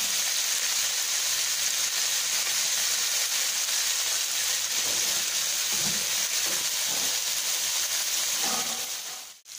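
Chopped onion and garlic sauté in a pan, giving a broad, steady hiss close up with occasional soft stirring scrapes and a brief clatter at the end.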